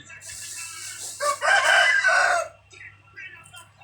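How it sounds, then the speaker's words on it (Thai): Chickens clucking and crowing in a busy rural yard, a burst of loud overlapping calls rising in the middle over a steady low hum, then fading to softer scattered clucks. "ไก่เยอะแยะ"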